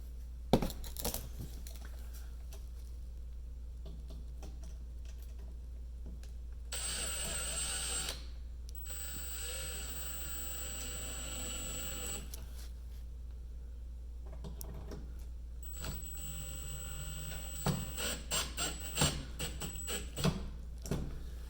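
A cordless screwdriver drives screws into a 3-prong range cord terminal block, short whirring bursts of the motor separated by pauses, clicks and handling noises, close and fairly quiet over a low hum.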